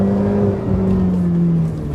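A Ferrari 488 GTB's turbocharged engine pulls hard in second gear, a loud, close, continuous rising drone with a steady whirring tone throughout.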